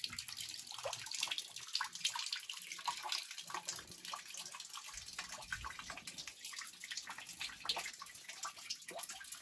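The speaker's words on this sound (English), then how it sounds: "And then we will drain this into a bucket." Water pours steadily into a bucket as a natural gas water heater is drained, a continuous close splashing wash with no talk over it.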